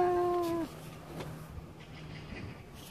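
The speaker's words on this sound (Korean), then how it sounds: "야옹이다. 야, 야옹이다." A cat at an apartment playground lets out one short, clear meow right at the start, followed by quiet outdoor background with faint, distant activity.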